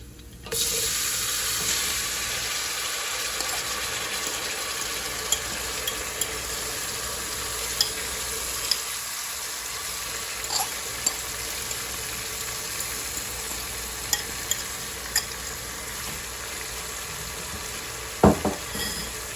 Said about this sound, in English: I'm gonna give it a little stir. Turn my stove up a little. Stir this up.